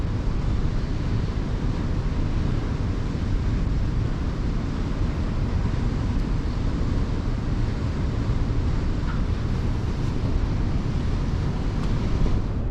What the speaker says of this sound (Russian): А тут уже как-то ветер.